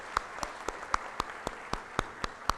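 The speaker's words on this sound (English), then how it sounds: "Please give them another round of applause." Audience at an awards night in Colombo claps in a slow, evenly spaced rhythm, about ten sharp claps over a couple of seconds, fairly close and distinct rather than a dense roar.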